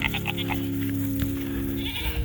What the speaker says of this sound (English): The goats doth protest.